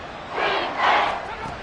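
A packed football stadium crowd roars loud and sustained, swelling in two big surges with a broad, distant wash of voices.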